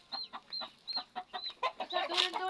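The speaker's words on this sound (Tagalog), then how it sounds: "Dadala ko ng manok." A chicken clucks in quick, close bursts, a steady run of short clucks that ends in a louder squawk, with a few faint voices in the background.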